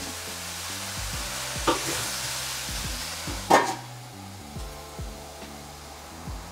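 Courgette cooks in a pan for a spring vegetable gratin, giving a steady close sizzle with a low hum underneath, broken by a few sharp clinks and scrapes, with no talk.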